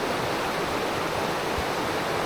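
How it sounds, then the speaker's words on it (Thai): Water rushes steadily through a forest stream near a waterfall in Nan, Thailand, on a morning after rain, a dense, constant roar of flowing water filling the whole scene with no voices. "กำาลังผมจะเป็นน้ำตก น้ำไหลผ่านลำธารนะครับ"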